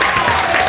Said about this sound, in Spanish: Denle un aplauso también a él, por favor.